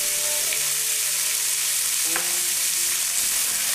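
Flank steak sears with a little salt in a hot wok, giving a dense, continuous sizzle close up and loud, with a few faint scrapes of stirring and no voices.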